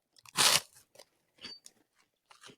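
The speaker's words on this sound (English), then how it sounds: "I bet that's a hell of a crunch in that mic, too." A loud, close crunch of someone biting into an ice cream cone right at the microphone, followed by several fainter chewing crunches spaced out over a few seconds.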